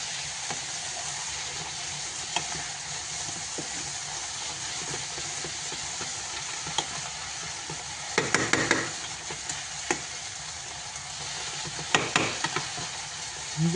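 A butternut confit sauce reduces in a pan, giving a steady, moderately loud hiss and sizzle with occasional soft clicks and bubbling bursts, and no one speaks.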